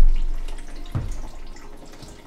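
Engine oil drains from a Classic Mini Moke in a steady liquid trickle, with one dull knock about a second in; no voices.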